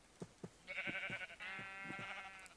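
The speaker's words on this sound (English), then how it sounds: "you wouldn't think they're sheep until you hear the realistic sheep sounds" Sheep bleating in Minecraft with the Buildcraft modpack: a few soft thumps, then two drawn-out, wavering bleats, quiet and close, with no voices over them.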